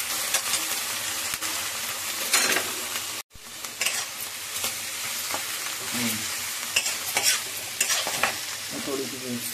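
Chopped onions frying in oil in a pan in a home kitchen, giving a steady close sizzle broken by repeated scraping stirs, with one brief dropout partway through.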